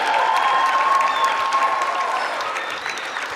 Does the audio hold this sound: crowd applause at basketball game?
yes